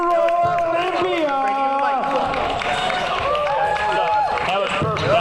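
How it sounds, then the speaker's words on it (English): Crowd applause and cheering for natural bodybuilding athletes on stage at a competition in Las Vegas, a continuous clapping wash beneath loud announcer speech and music. "Big round of applause for all of the PNBA athletes"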